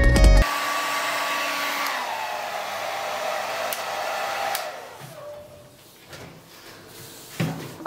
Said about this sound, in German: ich denke, dass ich jetzt mit einem Föhn dran gehen werde, damit das schneller trocknet